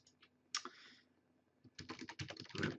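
Keys clatter on a computer keyboard as a web domain name is entered, starting with a few isolated taps, then a pause, then a quick close burst of rapid keystrokes.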